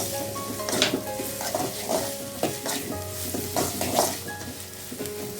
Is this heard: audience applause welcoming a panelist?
no